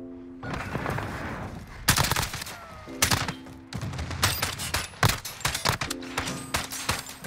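An AUG rifle in Modern Warfare fires repeated rapid automatic bursts, loud and close, with short pauses between strings of sharp cracking shots.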